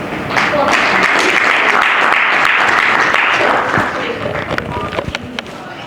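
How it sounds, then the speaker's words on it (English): A summit audience at a philanthropy awards event bursts into loud, dense applause that holds steady for several seconds. The clapping then thins into scattered claps near the end. "Let's give a round of applause"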